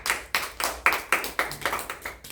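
A class claps for a classmate in a small group, about ten sharp, evenly spaced claps in a quick steady rhythm, close and fairly loud with no talking over it.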